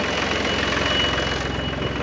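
A tractor engine runs steadily up close, with a rumbling, slightly knocking idle-like throb that holds even and loud throughout, with no voices.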